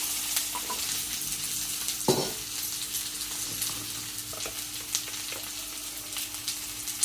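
Onion and cumin fry in hot oil for a cucumber sabji, a steady close crackling sizzle with a brief louder clatter about a third of the way in and small pops throughout.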